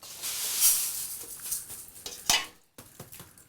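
Sambar being stirred in a bowl with a spoon, soft scraping swirls and a few light clinks of metal against the bowl, close and fairly quiet, with no talking.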